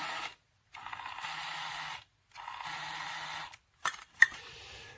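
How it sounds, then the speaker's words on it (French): A toy kitchen's battery-powered mini blender with its mixing bowl whirs in two short bursts of about a second and a half each, separated by brief pauses and followed by a few clicks and knocks. "un petit mixeur avec bien sûr le bol à mixer"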